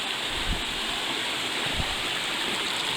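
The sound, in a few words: brook water flowing at trail crossing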